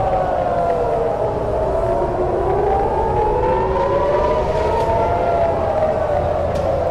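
An air raid siren in Israel during Iranian missile attacks wails continuously, its pitch rising and falling slowly, loud and droning over a rumbling background.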